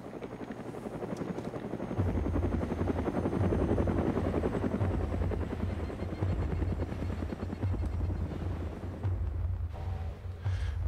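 A helicopter in the video game DayZ drones loudly and steadily overhead, its rotor thudding in a continuous chop that swells after the first two seconds and holds, with no voices.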